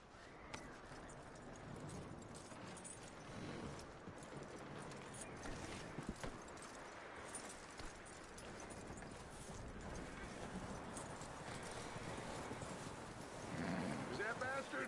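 In the video game Red Dead Redemption 2, a horse's hooves clip-clop steadily with a whinny, under ongoing speech.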